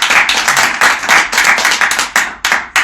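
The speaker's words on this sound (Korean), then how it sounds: "박수 한번 치고." An audience at a party founding event claps, loud and close, in uneven bursts of hands that swell and break off several times within a few seconds.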